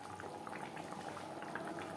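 Jackfruit gravy boils steadily in a pot, a dense continuous bubbling and popping that stays even and close throughout with no voices.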